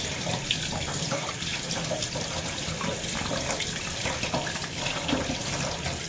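A kitchen tap runs steadily as hands are washed, giving a continuous close rush of water with no pauses for the full length.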